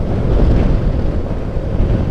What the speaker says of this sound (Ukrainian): А такий боковий вітер аж зносить трошки.